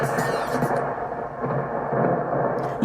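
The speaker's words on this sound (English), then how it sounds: "That's thunder and lightning." Thunder rolls as a continuous, loud, low rumble that swells and eases over a few seconds, with no other clear sounds on top.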